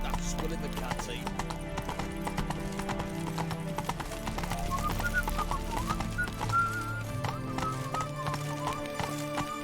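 Horse Roach's hooves clip-clopping steadily in The Witcher, close and rhythmic with a brief whinny, under game music and occasional voices.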